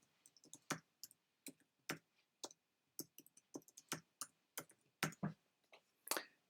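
A computer mouse clicks again and again in a quiet room, close and crisp, in irregular bursts of single and double clicks with short pauses between them.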